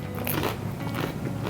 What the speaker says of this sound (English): Did you hear that crunch, people? This samosa shell is unbelievable.